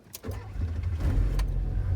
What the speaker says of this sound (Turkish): Arabayı çalıştırdık.